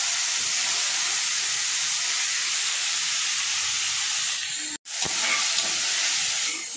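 Onion, tomato and curry leaves sautéing in hot oil for a Salem-style mutton kuzhambu, a steady loud sizzling hiss that briefly cuts out, then resumes with a clatter.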